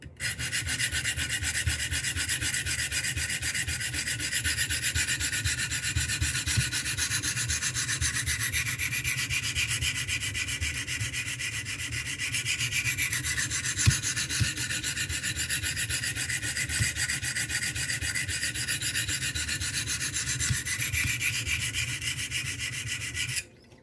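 A knife blade is drawn against the stones of a Wicked Edge sharpening system in a close, continuous series of even abrasive strokes, with no voices.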